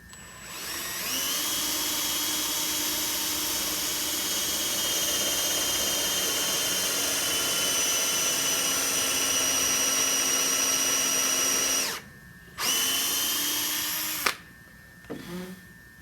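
A power drill drives a screw into a wooden shooting board with a loud, close, steady motor whine for about twelve seconds, cuts out briefly, then gives a short second burst before falling quiet.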